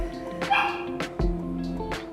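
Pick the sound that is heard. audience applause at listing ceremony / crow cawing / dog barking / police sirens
dog barking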